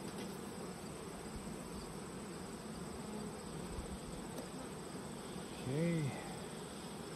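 Bees buzz steadily around beehives in a beekeeping yard, a dense, fairly faint drone that holds throughout, with one nearer insect swooping past loudly near the end and a brief spoken word.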